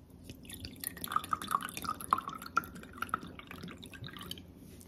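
A fizzy drink poured through a strainer into a glass bottle, heard as a close, steady trickle with irregular drips and splashes.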